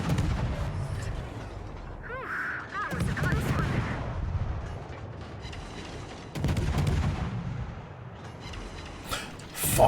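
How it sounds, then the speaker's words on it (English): Naval shells whistle in and guns fire in World of Warships, a Tashkent destroyer under a salvo: repeated booms and blasts with louder bursts near 3 and 6.5 seconds, and a voice talking over the gunfire. "Here come the shells, here come the shell."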